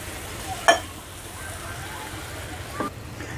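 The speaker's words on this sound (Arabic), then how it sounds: "وهقلب فيها كويس عشان الصوص يتسبك تمام." A spoon stirs pasta sauce in a pan over a steady low sizzle, with two sharp clinks of metal against the pan a couple of seconds apart.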